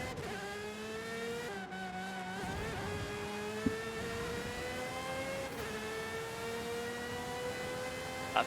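An Aston Martin Valkyrie AMR Pro race car in a racing game screams at high revs, its engine pitch sweeping up and dropping back through gear changes, loud, steady and nearly alone with no talk on top.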